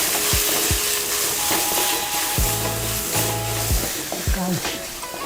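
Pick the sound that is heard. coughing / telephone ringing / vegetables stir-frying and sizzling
vegetables stir-frying and sizzling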